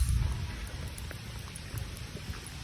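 Heavy rain pours down steadily outdoors near the sea, a dense, even patter with a low rumbling wash underneath, no voices.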